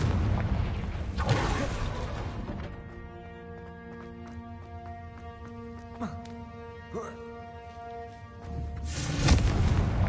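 A Confringo fire spell from the game Hogwarts Legacy bursts with a loud, booming explosion at the start and again near the end, with a steady tonal musical bed and a few sharp impacts in between.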